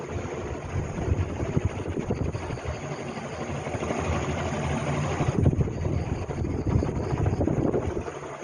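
A 1960s Orient De Luxe 56-inch ceiling fan running, its blades giving a steady whooshing, chopping rumble with slight pulsing, close and continuous.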